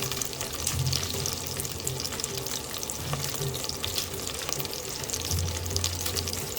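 Whole spices, cardamom, cloves, star anise, cinnamon and bay leaf, fry in a pan of oil, giving a soft continuous sizzle with a low steady hum underneath, no voices.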